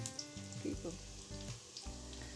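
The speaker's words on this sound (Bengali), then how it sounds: "পেঁয়াজটাকে আমি হালকা ভেজে নিচ্ছি" Chopped onions frying lightly in a pan, a continuous close sizzle with soft crackles and occasional stirring scrapes throughout.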